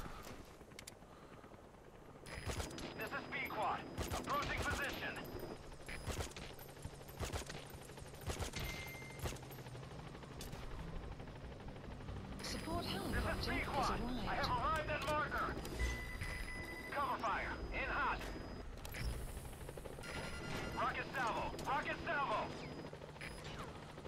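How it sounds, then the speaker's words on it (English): Gunfire in Metal Gear Solid V: The Phantom Pain, a scatter of sharp shots and bursts spread through the stretch, with game effects and someone talking over much of it. "Who the hell is shooting at him?"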